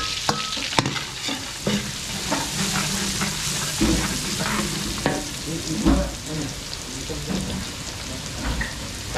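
Garlic and onion sautéing in a pan, a steady sizzle and crackle with occasional clinks of a utensil stirring, close and continuous, no talking.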